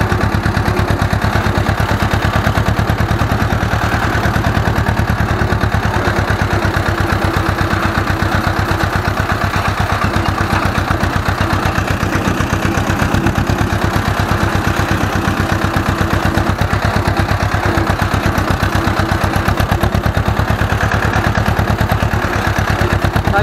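Ursus C-330 "ciapek" tractor engine running while driving during winter ploughing and harrowing work, a loud, steady low chugging throb that continues without a break.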